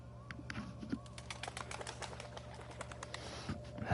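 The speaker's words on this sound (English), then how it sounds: "I like the birds flapping their wings there." Birds flap their wings in a scene from the video game Assassin's Creed Shadows, a quick run of soft fluttering beats over a steady low game ambience.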